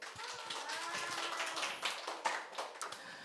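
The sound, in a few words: congregation clapping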